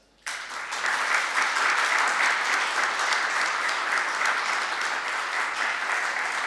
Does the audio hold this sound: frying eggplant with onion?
no